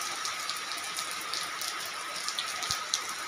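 Heavy rain falls in strong wind, a dense even hiss of drops hitting surfaces throughout, with an occasional low thump and no voices.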